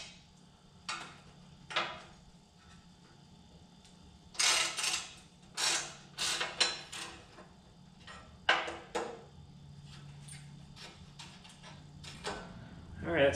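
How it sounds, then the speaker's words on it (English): Bolts come off a John Deere 175 mower bracket with sharp metallic clicks and clanks in irregular bursts, some clustered and some isolated, fairly close over a low hum, with someone talking in between. "we'll go ahead and get on the bolts and remove them from here"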